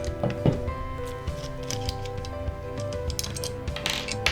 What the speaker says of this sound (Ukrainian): Відкручуємо ось ці два гвинти